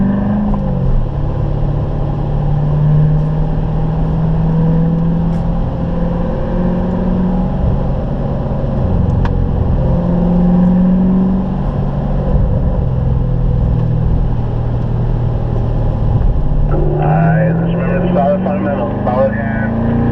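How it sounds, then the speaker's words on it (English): A Corvette at a Spring Mountain racing school rolls onto the track and accelerates steadily, engine drone rising and falling as it shifts up to third gear, heard from inside the car with a steady loud hum and an instructor talking over it. "We're going to roll right on out onto the track. Working our way up to third gear."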